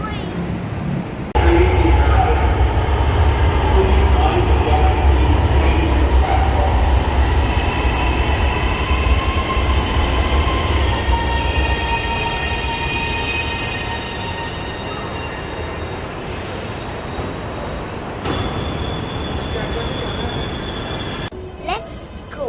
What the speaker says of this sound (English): Waiting for the orange train.